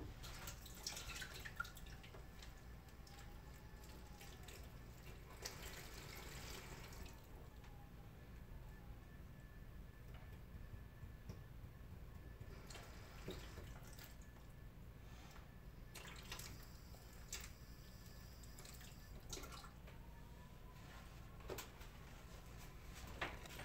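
Water is poured onto soil in a seed box, a continuous faint trickle and dripping with a few louder splashing bursts, heard alone without talking.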